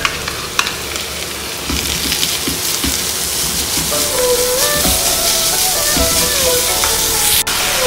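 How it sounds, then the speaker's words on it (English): Beef is dropped into a pan of browned garlic and fries with a loud, dense, rain-like sizzle that runs throughout, with stirring clatter and a faint melody playing in the background. "The garlic is already brown, so we're gonna add the beef."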